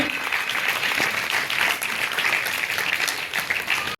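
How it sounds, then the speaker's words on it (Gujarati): A crowd applauds at a community award ceremony in Ahmedabad, dense sustained clapping from many people holding at an even level for about four seconds before cutting off abruptly. "આ ક્ષણને આપણી તાળીઓથી આપણે જીવંત બનાવવાની છે."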